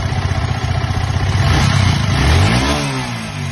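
A Yamaha R15 v3 motorcycle engine with a faulty clutch assembly runs loud and close, a rapid rattling knock riding over the idle before the revs climb and then ease back down.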